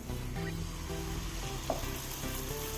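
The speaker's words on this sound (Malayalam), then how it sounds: "കുഞ്ഞ് അപ്പങ്ങളായി ചുട്ടെടുക്കണം" Spoonfuls of batter frying as small appams in ghee, a soft continuous sizzle with faint stirring and utensil clinks, quiet and close with no talk.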